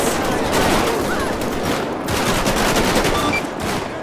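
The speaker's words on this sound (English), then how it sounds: "we are taking fire, we are taking heavy fire" Dense, sustained automatic gunfire fills a GTA5 police SWAT gang shootout, a continuous loud crackling barrage of overlapping shots with no pauses throughout.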